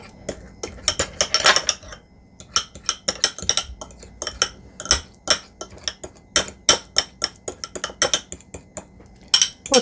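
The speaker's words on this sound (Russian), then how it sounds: "Это авокадо мы разминаем хорошо вилочкой." Avocado being mashed with a fork in a bowl for a collagen face mask, a rapid irregular run of sharp metallic clinks and taps against the dish, close and fairly loud with no talking.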